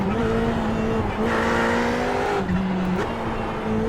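A Ferrari GT3 race car in iRacing at Long Beach holds a steady engine drone, the pitch climbing through the gears with brief dips at each shift, loud and continuous with no voices.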